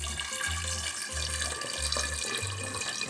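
Tap water runs steadily into a container being filled with 1.5 liters, a continuous close rush with a low rhythmic gurgle as the level rises, no one speaking.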